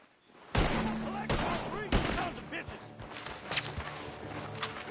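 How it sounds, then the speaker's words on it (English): Several sharp gunshots crack out amid Red Dead Redemption II game action, with a few louder bursts early and scattered smaller impacts and movement noises trailing after, coming from a barn. "Gunshots are coming from that barn!"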